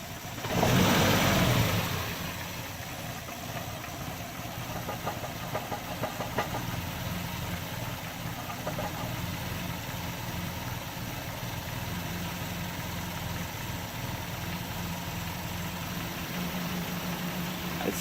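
A Mercedes 190E 2.0 with an engine converted to run on natural gas, starting with a loud rev that settles into a steady, slightly rough idle, heard close up and alone for a long stretch.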